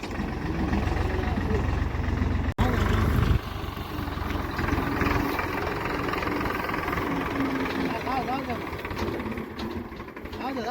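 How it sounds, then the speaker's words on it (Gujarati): A tractor engine runs steadily nearby with a low, continuous rumble and idling drone, briefly cut by a sharp knock early on, while people talk over it. "બીજું ટ્રેક્ટર મગાવ્યું તો આવી ગયું છે"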